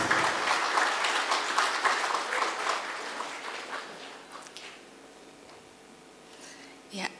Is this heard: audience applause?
yes